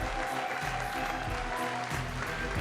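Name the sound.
audience cheering and applause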